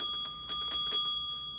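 A small hand bell is struck four times in quick succession, each ring a bright metallic clang with ringing overtones that decays briefly before the next, then fades into quiet.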